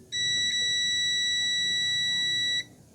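A multimeter's continuity beep sounds while probing a capacitor on an LG TV power adaptor board: one steady, piercing electronic tone that holds for about two and a half seconds and then cuts off, over a faint room hum.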